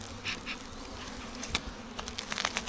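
Honey bees buzz around an opened hive during an inspection of queen bank colonies, a steady close drone with scattered sharper passes and rustles.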